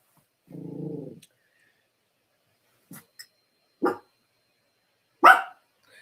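A dog barks several times as eggs boil, starting with a drawn-out bark and then three short sharp barks spaced apart, fairly close against an otherwise silent background.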